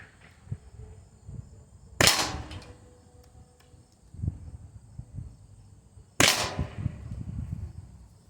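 Byrna HD CO2 launcher firing projectiles at targets: two sharp, loud pops several seconds apart, each followed by a quick hissing decay, with faint handling clicks and thumps between shots.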